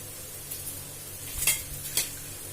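Sesame, fenugreek and poppy seeds hiss and crackle faintly in a pan while being stirred, with a few brief scraping stirs standing out over the soft steady sizzle.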